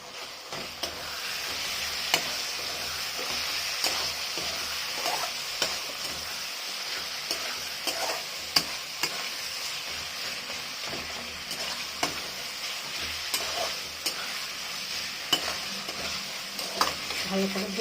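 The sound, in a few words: mutton mince frying and being stirred in a pan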